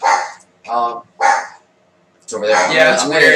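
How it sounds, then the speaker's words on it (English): A dog indoors gives three sharp barks in quick succession, loud and close, followed by people talking nearby. "I just want to mention that there's a dog being babysat here."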